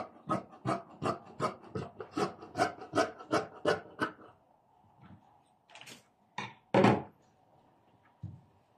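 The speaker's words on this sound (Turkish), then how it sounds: "Ve şimdi işaretlediğim yerden kesiyorum." Scissors cut fabric for a cone skirt along a marked line, a rhythmic series of about a dozen crisp snipping crunches, then a pause and a few separate louder cuts.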